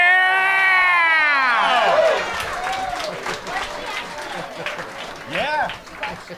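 Audience applause during a live podcast taping, a clapping wash running under talk and laughter, with voices rising and falling over it.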